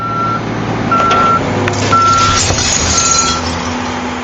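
A recycling lorry's reversing alarm sounds four steady beeps about a second apart over a low diesel engine rumble, close and clear.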